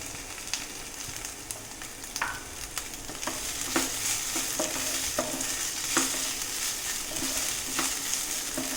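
Chopped bell peppers sizzle and crackle in a hot pan, with scraping stirs now and then and the frying getting louder partway through.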